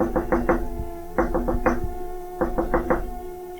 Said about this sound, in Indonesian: terdengar suara ketukan pintu depan